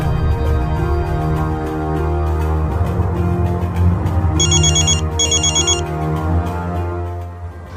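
A telephone rings in two short electronic bursts over a steady music bed, fairly loud and close, with no talking.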